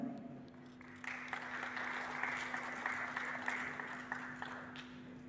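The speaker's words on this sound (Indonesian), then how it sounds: "Boleh beri tepuk tangan." Applause from an audience at an Indonesian safety culture award ceremony, a soft, fairly distant wash of clapping hands over a steady electrical hum in a large hall.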